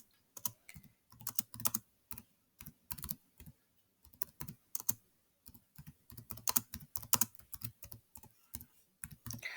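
Quick, light clicking of keys on a computer keyboard while text goes into a Google Docs document, in irregular bursts of rapid keystrokes with brief pauses, close and fairly quiet, with no talking.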